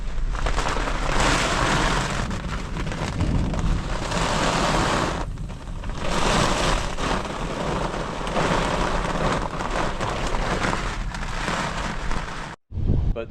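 Heavy, loud rain of a desert thunderstorm pours steadily with a deep rumbling roar of thunder beneath it, fading briefly at one point before surging again.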